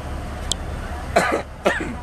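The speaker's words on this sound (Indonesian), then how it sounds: "Batuk." Two short, rough coughs close by, one after the other, over steady background noise.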